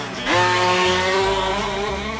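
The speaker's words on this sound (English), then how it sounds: "It's got the 2-stroke direct injected motor." A two-stroke direct-injected engine, likely a snowmobile in Saskatchewan, revs up sharply and holds a high, buzzing whine nearby, pitch shifting slightly as throttle varies.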